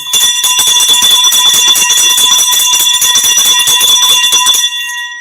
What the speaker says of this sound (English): Let me ring the bell for both attorneys.